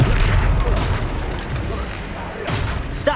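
A Confringo fire curse explodes in the Hogwarts Legacy video game with a loud, rumbling, booming blast that carries on for several seconds. Game noise and further crackling impacts run underneath it.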